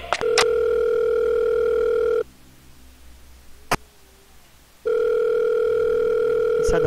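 A telephone in the video game Five Nights at Wario's 3 rings in two long electronic bursts separated by a stretch of near-silence with a faint click, loud and close, no talking.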